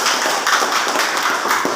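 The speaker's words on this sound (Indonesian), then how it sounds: "Baik, tepuk tangan untuk ini." An audience at a classroom lesson claps steadily and densely for the whole stretch, a continuous wash with no voices.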